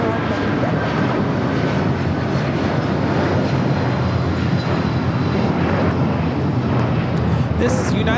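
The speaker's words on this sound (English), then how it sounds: "This is United Airlines 2127 taking off to Newark on the 757-200" United Airlines Boeing 757-200 taking off from LAX bound for Newark, a loud, broad, rumbling engine roar filling the whole stretch, with talk faintly underneath.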